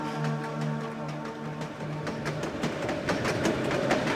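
Train running in the video game Dark Fall: The Journal, a steady rolling rumble with rhythmic clicks and low engine hum, continuous and fairly close throughout.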